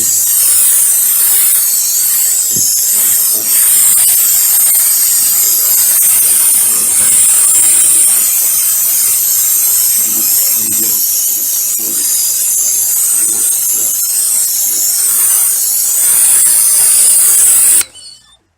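A Black & Decker BXPW1400E pressure washer sprays wood in a loud, steady hiss lasting nearly the whole time, with slight shifts as the jet moves over the surface, then cuts off abruptly at the end.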